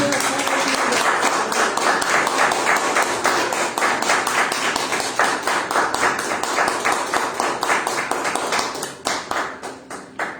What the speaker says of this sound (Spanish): Vamos a darle un aplauso a Él.